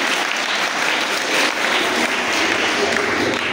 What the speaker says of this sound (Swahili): Wapigie makofi kwa pamoja.